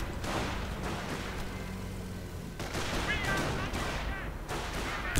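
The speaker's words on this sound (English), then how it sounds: "And another strafing run." Aircraft strafing runs in a real-time strategy video game, a dense roll of gunfire bursts and booms under continuous battle noise, loud and sustained, with a voice talking over it.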